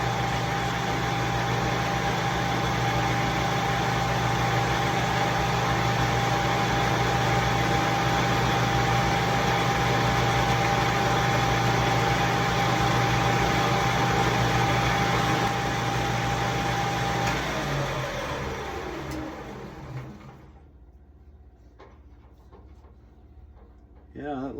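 Small wood lathe turning cocobolo pen blanks at about 2,000 rpm while wax is buffed off, a steady loud motor hum and whine that runs down and stops near the end.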